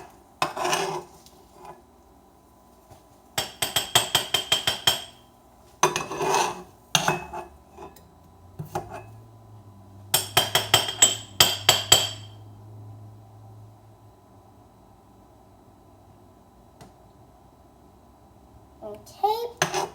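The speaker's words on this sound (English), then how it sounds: "Just going to scrape all the last egg out." Metal utensil scraping the last scrambled egg from a frying pan, in short bursts of scratchy clinks separated by quiet gaps, close and fairly soft, with a voice talking in between.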